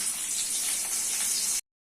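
Sliced onion dropped into hot oil in a pan while cooking potato, eggplant and egg, giving a steady, close, bright sizzle that holds level for under two seconds and then cuts off abruptly.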